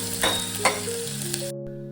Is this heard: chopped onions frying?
yes